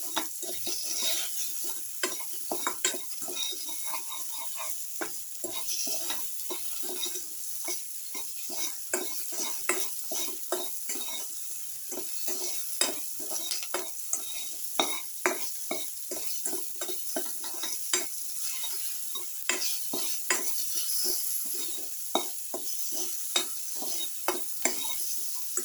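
Shallots and bell pepper sauté in a pan with salt while a spoon stirs them, giving a soft continuous sizzle broken by frequent scraping strokes at a steady pace.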